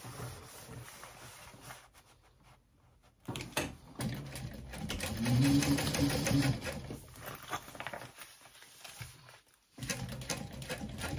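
A sewing machine stitches along the bottom seam of a small backpack, with uneven bursts of fast mechanical rattling separated by short pauses and faint handling noises.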